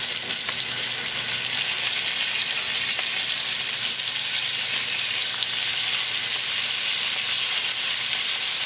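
Lamb chops sizzling in a frying pan after being flipped, a loud steady close hiss of frying fat with light crackle, no talking.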